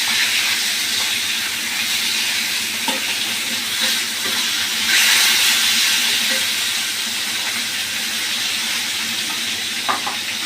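Koi fish fry in a pan for a spicy koi bhuna, giving a steady loud sizzle and hiss with a few brief clinks as the fish are turned.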